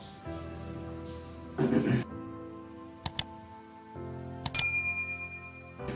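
A notification bell sound effect rings out as several bright, clear dings, one loud chime followed by two short strikes and another ringing tone over a soft musical background.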